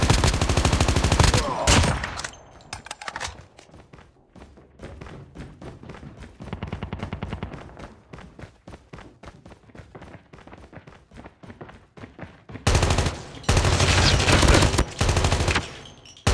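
Gunfire in the video game Call of Duty Cold War: dense loud bursts of automatic fire at the start and end, with quieter scattered shots and thuds in between.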